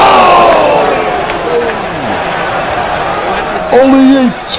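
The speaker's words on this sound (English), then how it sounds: "My God, the crowd is going insane." A loud arena crowd roars and cheers steadily in the WWE 2K19 wrestling video game, the sustained crowd noise running underneath commentators' excited speech.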